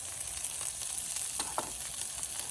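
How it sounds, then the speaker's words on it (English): Eggs frying in a hot pan for a carnivore breakfast sandwich, giving a steady close sizzle with a few sharper crackles and pops and no talk. "I like it more fried. Just like the fried egg."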